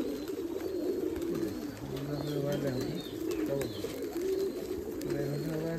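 Giribaz pigeons at a large pigeon farm coo in overlapping low, rolling calls, close by and continuous, with a few higher chirps and a person speaking faintly in the background.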